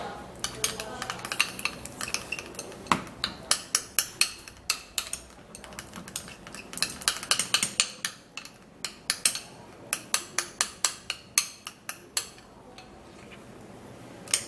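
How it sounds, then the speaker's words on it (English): A utensil mixes almond oil into a homemade lipstick mixture in a small dish, giving repeated sharp scraping and clinking taps in an irregular stirring rhythm, close and fairly loud with no talk. "Then we're going to be putting in some drops of the almond oil, and now we're just going to mix it really well."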